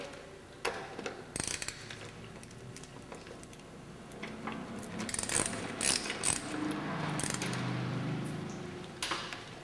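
A nut is spun down a bolt shaft fitted with machined steel spacers on the ABR 2000 axle retaining tool. Quiet, scattered metallic clicks and ticks come from close by, with a soft rattling stretch.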